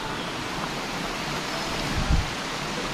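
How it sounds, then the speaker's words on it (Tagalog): Steady broadband roar of a waterfall (talon) at a river swimming spot beside a dam, constant and enveloping, with a brief low thump near the end and no speech. "Iyan na yung talon, pinakatalon."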